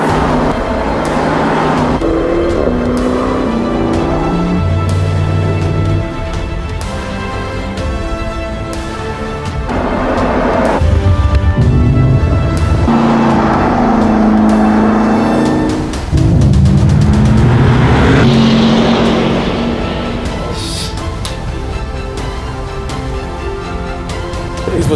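A Porsche Panamera Turbo S E-Hybrid attempts a lap record on the Bahrain International Circuit. Its engine roars loudly and steadily, rising and falling with gear changes and sweeping through the revs throughout.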